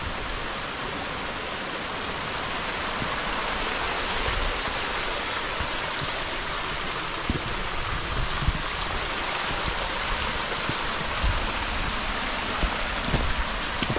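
Cautley Spout waterfall in the Howgill Fells tumbles down a steep fellside, a steady, dense rush of falling water close by, filling the whole clip with no voices.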